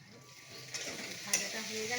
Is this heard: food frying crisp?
yes